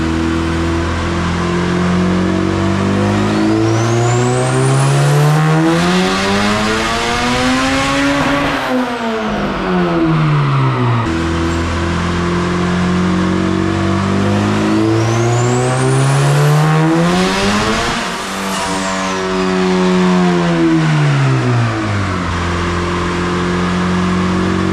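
A turbocharged B16 engine in a Honda EF hatchback, a car that sat for 20 years, revs hard on a dyno in two long pulls, rising to a loud high-pitched wail before dropping off, close and alone.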